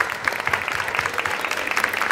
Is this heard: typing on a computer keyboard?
no